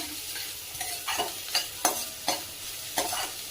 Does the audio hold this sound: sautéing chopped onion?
yes